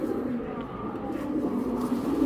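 A female pigeon gives soft, low cooing, fairly quiet and close, over a faint background hum.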